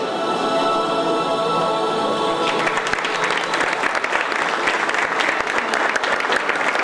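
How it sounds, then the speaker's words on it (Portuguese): Sustained audience applause at a military police graduation ceremony. A tonal background hum comes first, then broad, even clapping from a large crowd swells in and continues steadily to the end. "Aplausos."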